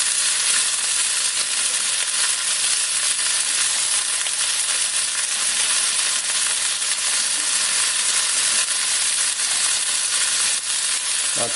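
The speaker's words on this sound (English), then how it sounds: "So while this is browning, I'm going to open up the window." Pork spareribs brown in a hot pan with a loud, dense, steady sizzle and crackling fry that holds unbroken from start to finish, close up with no talking.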